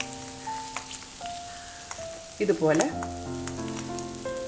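Jackfruit cutlets sizzle softly in hot oil, a quiet steady crackle with a brief louder stir of bubbling midway while a person speaks briefly.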